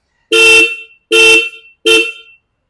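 Royal Enfield Bear 650 motorcycle's 12 V dual-tone horn sounds three short, loud, bright honks of equal length, evenly spaced, with no other sound around them.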